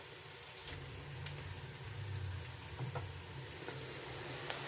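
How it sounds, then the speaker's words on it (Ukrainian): Steady sizzling and crackling of onions frying in a pan until golden, a constant hiss with small pops throughout, fairly quiet and close. "І смажимо цибульку до тих пір, поки вона буде гарно підсмажена."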